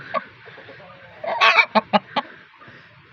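Hens cluck near eggs in a fighting-cock poultry yard: a soft, scattered murmur of low clucks, then a burst of several sharp, loud clucks in quick succession, close by.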